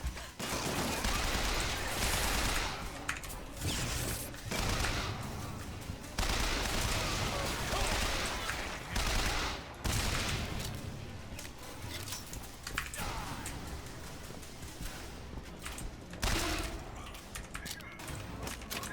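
Dense gunfire in the video game Bioshock Infinite, rapid bursts and single shots crackling almost without pause over game noise, with someone speaking intermittently underneath.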